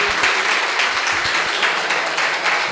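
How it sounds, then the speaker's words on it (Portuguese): A church congregation claps for Jesus during a worship service, a loud, steady burst of many hands close by, keeping a dense, even texture for the full stretch with no voices on top. "Bem forte as suas palmas para Ele"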